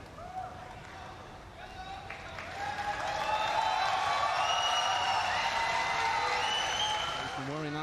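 Crowd applauding at a 2025 Reyes Cup pool match, clapping rising from faint to a full, dense roar and holding for several seconds, with a commentator talking over it.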